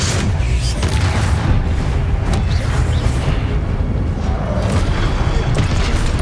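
The Confringo explosive spell is cast in the video game Hogwarts Legacy, producing a continuous barrage of heavy booms and blasts that rumble loudly throughout, with sharp explosive cracks punctuating the dense low roar.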